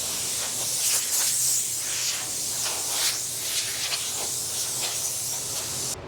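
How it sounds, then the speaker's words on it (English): Anti-static air gun blowing over a car part before painting, a continuous close hiss of air with slight surges, steady throughout. "And then lastly, anti-stat gun."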